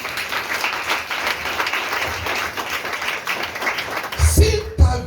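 A church congregation applauds the Lord in sustained, dense clapping with crowd noise, swelling louder and more scattered toward the end, a few voices rising through it.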